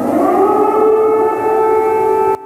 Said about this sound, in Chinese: the air raid alarm went off in Ivano-Frankivsk